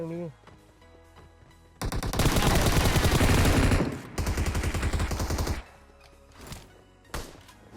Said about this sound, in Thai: อืมพี่ยิงกับมันอยู่เนี่ย สองตัว